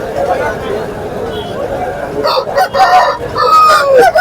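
Roosters crow loudly and repeatedly at a poultry market, several overlapping calls in the second half over a busy background of chatter and clucking.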